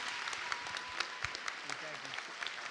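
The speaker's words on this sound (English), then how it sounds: "Can we give another round of applause to Mr. Galan?" Applause from students at a Holocaust remembrance school assembly, a steady dense patter of many hands heard at a moderate distance with voices talking over it.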